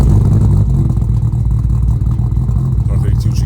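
A Nissan Skyline R32 GT-R engine revs loud and close, with a deep, rough, throbbing exhaust note held steady for a few seconds and small dips in pitch and pulse.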